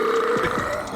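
A single loud, close, low burp rumbles for about a second.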